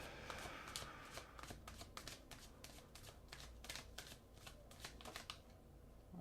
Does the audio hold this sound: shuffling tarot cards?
yes